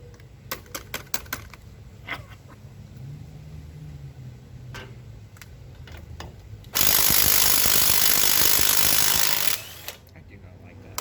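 A Walmart impact wrench removes parts during a half-VW engine disassembly for a Hummel Ultracruiser, firing one loud, sustained hammering burst of about three seconds, preceded by scattered clicks, clanks and a voice.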